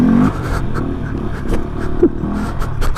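A Honda Grom motorcycle, a small 50-class bike, revs up during grass wheelies at a stunt lot, its engine note climbing and falling in short bursts close by.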